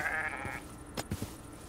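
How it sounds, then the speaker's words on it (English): A sheep bleats faintly in the Minecraft video game, a short wavering call followed by a few soft thuds against a low background hum. "Should we kill this brown sheep?"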